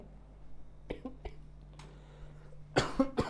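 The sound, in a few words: coughing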